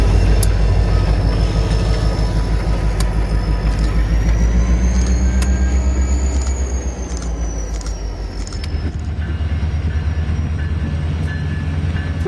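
Train 500 slowly shoving a caboose with large chip gondolas over an unprotected crossing: loud, close rumble of rolling cars with rhythmic wheel clatter, a long squealing tone and a drop in level near the end.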